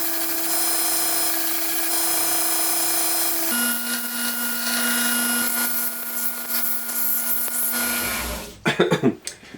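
Belt sander with a fresh belt shaping knife scales, a steady droning motor hum whose pitch shifts as the workpiece is pressed in, ending in a few loud knocks and handling bumps.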